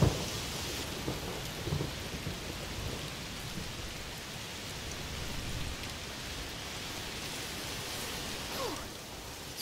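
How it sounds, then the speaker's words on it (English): Heavy rain pours steadily in the video game A Plague Tale Requiem, a dense close hiss of rain on surfaces with low rumbles of thunder underneath and no talking. "It's raining a lot."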